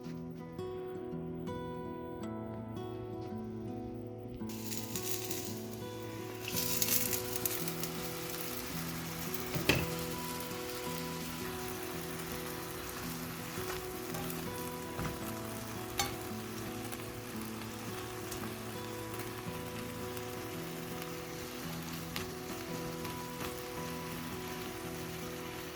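Trader Joe's fettuccine with mushrooms sizzles as it cooks, a soft, steady crackle over a low continuous hum, faint and even, with a few brief louder pops and no talk.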